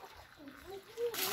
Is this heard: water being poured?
yes